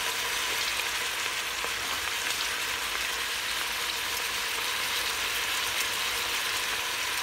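Vegetables with bay leaves and herbs sauté in an Instant Pot for short ribs, giving a steady, even sizzle with faint stirring scrapes and no talking.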